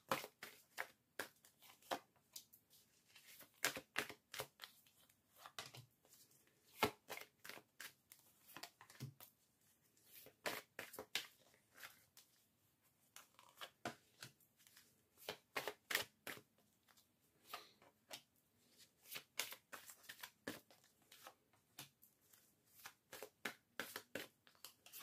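Tarot cards are shuffled by hand for a nine-card spread, giving close, crisp riffles and slaps in irregular bursts with short pauses between them.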